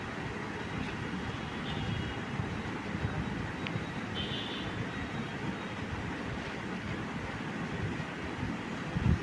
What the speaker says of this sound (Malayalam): ഒരു ട്രെയിൻ വരുന്നുണ്ട് കേട്ടോ.